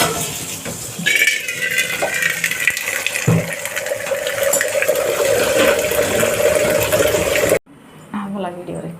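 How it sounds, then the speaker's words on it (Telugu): Water runs from a tap into a vessel with a steady gushing rush that rises in pitch as it fills. The flow stops abruptly near the end, and a voice can be heard at points. "ఇలా ఒక దవర తీసుకొని ఇందులో వాటర్ పట్టేస్తున్నాం."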